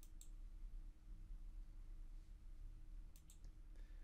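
Quiet computer mouse clicks, a couple of sharp taps at the start and another pair near the end, over a low steady hum.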